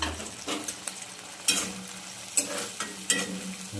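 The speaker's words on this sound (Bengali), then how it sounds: "এরপর এটাকে ভালো করে আমি নাড়ব।" Chilli chicken being stirred into a sauce mixture in a pan: close, rhythmic scraping strokes about once a second over a soft sizzle, with no voices.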